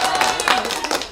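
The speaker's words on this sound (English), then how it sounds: "that deserves a round of applause" A short burst of clapping from a small group, a quick scatter of hand claps lasting about a second, fairly close.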